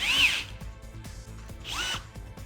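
A cordless blind nut installation tool running: two short, loud whirring motor bursts that rise and fall in pitch, separated by quieter clicks and handling noise, close up with no talking.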